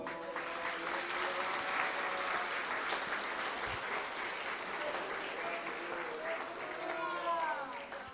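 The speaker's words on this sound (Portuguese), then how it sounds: "Vamos dar um aplauso ao oleiro." Applause fills a church service, a steady, dense clapping from the congregation lasting throughout, with faint voices and tones mixed underneath.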